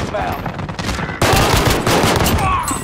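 Rapid automatic gunfire from the video game Call of Duty: Modern Warfare, loud and dense bursts rattling continuously, growing heavier partway through, with a faint voice in the background.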